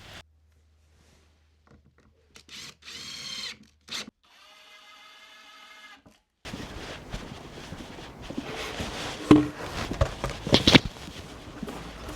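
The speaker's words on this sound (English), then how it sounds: "I'm going to get a couple of screws started into this back piece" Screws are driven into the back piece of a wooden shed step, a fairly loud, irregular run of power-tool whirring and knocking that follows quieter intermittent whirring bursts in the first half.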